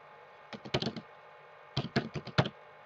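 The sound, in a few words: typing on a laptop keyboard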